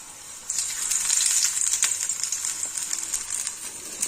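Batter-coated tapse fish crackle and sizzle loudly in very hot oil, a dense, close, continuous spitting fry that swells after a quieter opening and stays steady throughout.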